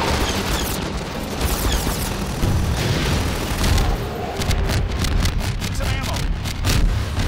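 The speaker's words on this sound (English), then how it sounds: "You just shot down my rocket!" A rocket being shot down and exploding in the video game Half-Life 2, heard as a loud, dense roar of blast and rumble that fills the whole clip with steady intensity.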